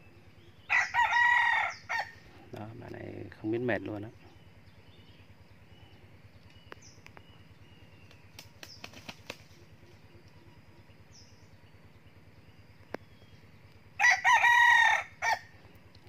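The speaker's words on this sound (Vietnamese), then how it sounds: "bạn ấy thả ra là bạn ấy đi cánh và gáy rất là nhiều" A young rooster crows loudly and close, two long crows at the start and end with a burst of wing flapping between, in sunny outdoor conditions; someone speaks briefly in between.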